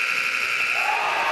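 A loud, continuous electronic buzzer blares steadily at a prep-school basketball game, filling the gym without a break for over a second.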